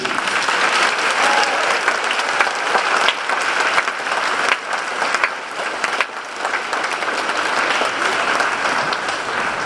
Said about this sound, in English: Please join me in applauding these outstanding students.